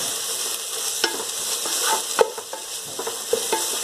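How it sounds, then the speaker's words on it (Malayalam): Beef stirred and fried in a hot pan makes a loud, close sizzle broken by repeated scraping and clattering utensil strokes at an uneven pace, with no speech. "ബീഫ് ചേർത്ത് നല്ലപോലെ ഒന്ന് മിക്സ് ചെയ്യണം."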